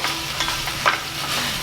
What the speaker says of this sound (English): I'm just getting this onion kind of browned off with this turkey wing